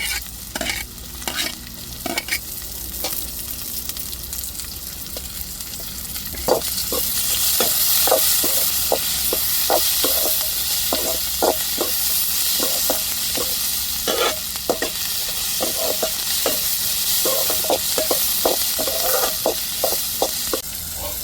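Tomatoes and chillies frying in a pan for a spicy prawn dish, a constant loud sizzle broken by frequent quick scraping stirs of a spatula, close up with no voices.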